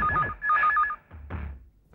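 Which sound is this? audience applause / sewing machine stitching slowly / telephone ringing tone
telephone ringing tone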